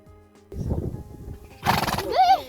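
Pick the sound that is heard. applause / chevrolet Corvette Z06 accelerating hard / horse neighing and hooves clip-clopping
horse neighing and hooves clip-clopping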